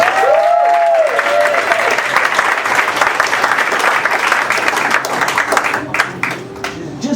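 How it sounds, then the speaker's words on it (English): A comedy show audience applauds loudly and steadily, the clapping thinning slightly near the end, with a brief voice-like tone at the start. "Let's give them all a round of applause."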